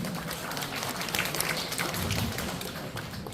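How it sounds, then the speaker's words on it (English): A modest ripple of applause from an audience at an evening event, scattered hand claps forming a dense, continuous patter at moderate level with no clear voices above it. "Nice ripple of applause there."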